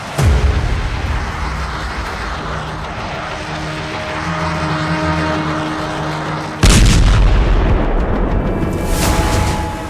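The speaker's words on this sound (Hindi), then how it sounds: "पश्चिमी यरूशलेम में मिसाइल अटैक, तेल अवीव के करीब बेत शेमेश में हमला।" Missile attack blasts near Beit Shemesh and western Jerusalem in Israel: a sustained low rumbling roar like passing aircraft, then a sudden loud broadband boom near the end that stays loud.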